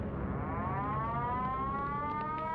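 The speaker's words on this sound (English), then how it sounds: "we heard the air raid sirens going" A wartime air raid siren wails, its rising and falling tone sweeping steadily from start to finish and sounding loud, alone and somewhat distant.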